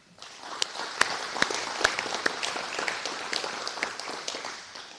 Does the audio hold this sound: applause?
yes